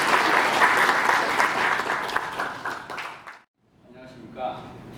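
Crowd applause at a book launch celebration welcoming a congratulatory speaker to the podium: dense, steady clapping for about three and a half seconds, then it cuts off into quiet room noise with a voice beginning faintly.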